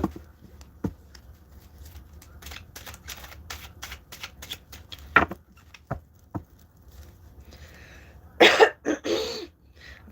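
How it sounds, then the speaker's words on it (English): A few scattered coughs and throat-clearing sounds in a quiet room, ending with a louder, harsher burst of throat clearing. "I feel like I can't clear my throat enough"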